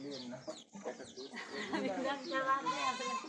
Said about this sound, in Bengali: ছাগল দুইটা সুন্দর ভাই।